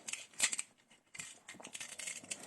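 Toy food onion being cut with a plastic toy knife, giving a few short crisp snips and clicks close up, with a quiet pause and then more scraping sounds.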